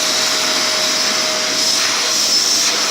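Vacuum cleaner cleaning a floor in a home, a loud, continuous close whirring drone with a steady high whine, unbroken and without any talking.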